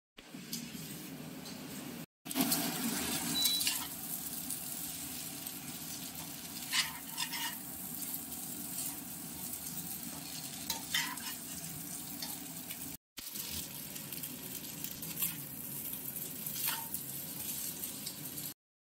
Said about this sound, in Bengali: এবার দিয়ে দেওয়া হবে সেদ্ধ করে রাখা পাস্তাগুলো।